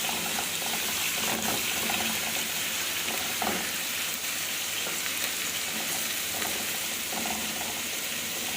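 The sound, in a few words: chopped onion frying in fat and oil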